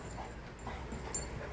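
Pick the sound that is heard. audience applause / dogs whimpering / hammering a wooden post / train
dogs whimpering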